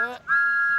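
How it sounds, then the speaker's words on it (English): Thomas the cartoon steam engine blows a loud, steady high whistle, sounding briefly right after a short burst of another tone, clear and close. "He blew his whistle even louder."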